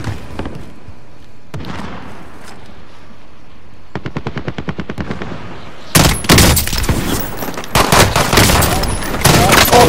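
Loud rapid burst-fire gunfire in Call of Duty Warzone, quiet rattling shots early followed by dense, heavy bursts in the second half, with a voice talking faintly beneath.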